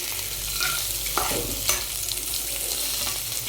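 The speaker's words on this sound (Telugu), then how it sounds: "పచ్చిమిరపకాయ ముక్కలు, ఆనియన్స్, క్యారెట్, బీన్స్ని కట్ చేసుకొని మనం ఇలా వేసుకొని ఒక్కసారి వేగనివ్వండి" Chopped green chillies, onions, carrot and beans fry in a pan for vegetable poha, giving a steady sizzle with a few scraping stirs near the start and the middle.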